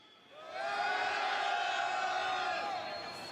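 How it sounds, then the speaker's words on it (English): A large convention hall crowd at CitizenCon 2954 screams and cheers in one sustained, loud roar that swells quickly, holds, and fades slightly at the end. "If you're in Hall B, let me hear you scream."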